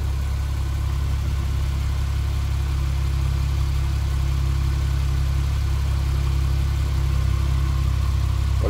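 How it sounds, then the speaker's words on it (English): A 2017 Porsche 911 Carrera Cabriolet's 3-liter twin-turbo engine idles at close range, giving a steady, even low rumble that holds for the full length with no voices. "Let's take a listen to this 3-liter twin turbo"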